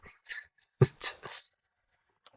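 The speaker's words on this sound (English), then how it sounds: "my dog is not happy with me ignoring him." A dog whimpers for attention in a few short, high whiny bursts close by, then goes quiet with one faint yip at the end.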